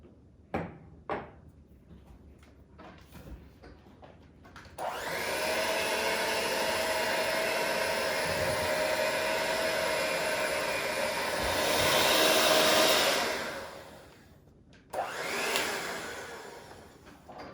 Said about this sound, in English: we're going to use the mixer to blend it all up